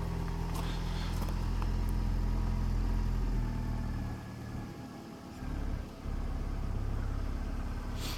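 A 1984 Ford Escort cabriolet's 1.6 CVH engine idles after a cold start on choke, a low steady rumble close by that dips briefly in the middle and then settles back.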